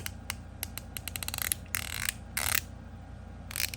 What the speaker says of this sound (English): The lowest pitch fidget I've probably seen to date.